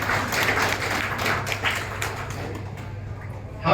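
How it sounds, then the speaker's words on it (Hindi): An audience gives steady applause to welcome a speaker at a real estate project launch event in Patna; the clapping is sustained and fairly loud, then thins out toward the end. "जोरदार तालियों से स्वागत करना चाहता हूं"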